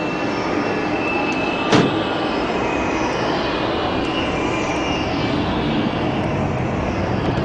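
An aeroplane taking off is heard from inside the cabin as a loud, steady broadband engine roar that holds throughout, with one brief sharp knock midway and no talk.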